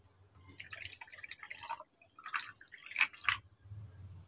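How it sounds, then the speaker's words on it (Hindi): Juice drink is poured into a glass while making a chilled summer mint margarita drink, heard as close, soft splashing and dripping in short bursts, fairly faint with no talking. "इसके अंदर ऐड करूंगा जूस ड्रिंक जो हमने आपके सामने रेडी किया था, वो मैं आधा ऐड कर लूंगा"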